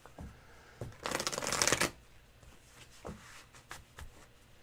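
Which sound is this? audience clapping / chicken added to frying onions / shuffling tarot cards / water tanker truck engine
shuffling tarot cards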